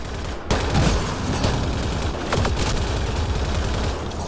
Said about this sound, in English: Cover the console while Sam works. Nice steady fire